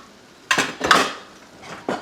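Heavy-bottomed, good-quality frying pans and pots clank together as they are handled, giving three sharp metallic knocks close by with brief ringing decay and quiet between.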